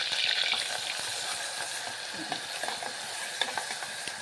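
Ground masala paste sizzles and is stirred in a pan for trotter soup, a soft steady frying hiss with repeated scraping and clicking of a spoon against the pan.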